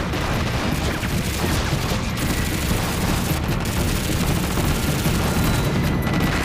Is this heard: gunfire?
yes